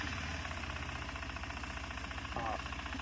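A KTM Adventure 390 motorcycle engine starts and runs steadily, a continuous loud mechanical drone with a rhythmic pulsing texture that holds throughout.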